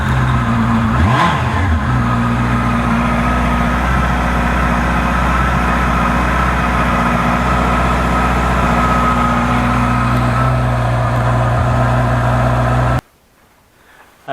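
A salvaged Honda CBR650R motorcycle with a rebuilt engine casing starts up, settles into a steady, loud, close-up running note with a brief rev near the start, then cuts off abruptly near the end, leaving quiet.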